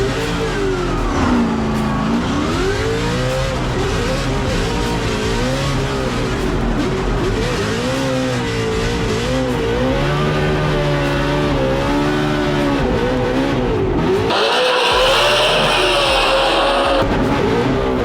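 Drift cars at a Formula Drift event on the Long Beach street course roar past in a loud, continuous blare of revving engines that rise and fall, with squealing tires and a harsher high-pitched wail near the end.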